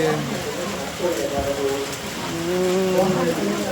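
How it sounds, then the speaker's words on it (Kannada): Heavy monsoon rain at Dharmasthala pours down in a steady, dense hiss that runs unbroken beneath someone talking close by. "ಬಟ್ ಇದು ಬೇರೆ ಫುಲ್ಲು ಜೋರು ಮಳೆ"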